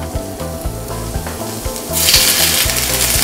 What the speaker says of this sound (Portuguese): Nesse momento entro com a cebola